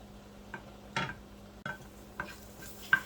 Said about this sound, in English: Into the saucepan, you're going to add your garlic, and you're going to just cook it on medium-high heat for about 30 seconds